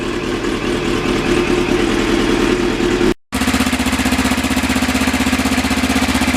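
A 2009 Kawasaki Ninja 650R motorcycle idles steadily while warming up in a smoky garage, a low even engine drone that drops out briefly midway, then resumes with a slightly deeper, throbbing pulse.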